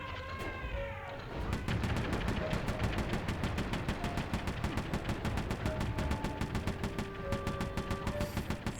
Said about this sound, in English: It's a powerful cannon.